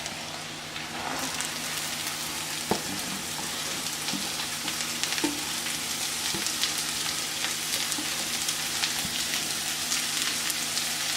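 Carrots, beans and peas fry with onions in a pan, a steady close sizzle with occasional soft stirring clicks, no talking.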